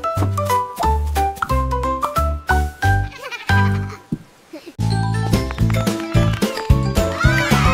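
A rainbow sheep bleats repeatedly in loud, wavering calls set among bright tuneful music, likely a cartoon sheep voice woven into a sung children's rhyme.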